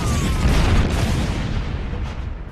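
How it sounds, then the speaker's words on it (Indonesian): A bomb explodes and destroys a building, a loud deep boom with a rumbling blast that slowly fades out. "Disusul tempat itu meledak karena bom."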